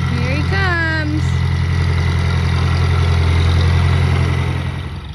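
A combine harvester on a Nebraska corn and soybean harvest rumbles steadily at close range, its heavy engine drone continuous throughout, with a brief voice-like whistle or call early on before the engine sound gradually eases at the end.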